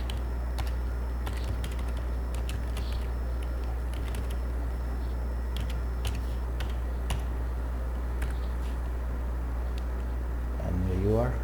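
Computer keyboard typing code, steady light key clicks running throughout over a constant low hum, with a brief voice near the end.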